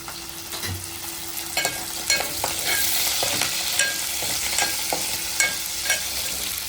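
Curry leaves and green chillies fry in a hot pan with a steady sizzle, broken by repeated clicks and scrapes of a spoon being stirred through, close and fairly loud throughout with no talking.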